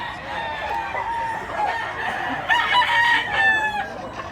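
A rooster at a Cebu poultry market crows twice in shrill, drawn-out calls, mid-distance, amid low background market noise.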